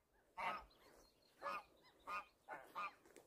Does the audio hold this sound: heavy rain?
no